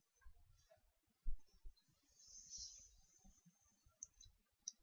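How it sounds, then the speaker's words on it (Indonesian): Faint, irregular keyboard typing during an online English lesson: scattered light clicks and taps over about five seconds, with a few sharper keystrokes standing out against a quiet room. "Coba diketik di sini."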